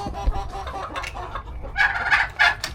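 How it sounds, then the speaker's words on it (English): Chickens and roosters crowded in a pen, clucking and squawking close by in short overlapping bursts, a louder cluster of calls rising near the end. "That's a lot of chickens, y'all."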